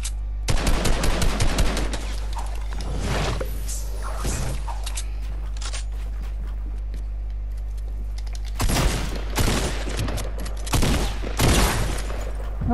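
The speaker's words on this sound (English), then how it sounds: "is he shooting round corners?" Bursts of automatic gunfire in the video game Fortnite, loud rapid volleys at the start, mid-clip and again near the end, with quieter gaps between and a steady low hum underneath.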